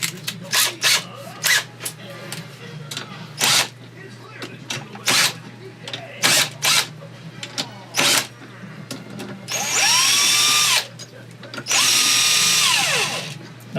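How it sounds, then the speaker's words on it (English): A power drill spins a 1/2-inch socket fitted with a 3/8 screwdriver bit, whirring in short bursts and stops, then two longer high-pitched runs that rise and fall, close up with a workshop hum beneath. "Now I can hook it up to my drill."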